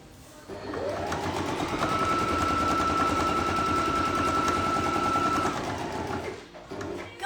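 A sewing machine stitches a few forward stitches and then reverse stitches on fabric for a DIY tart bag, a steady close mechanical whir running for several seconds with no voices.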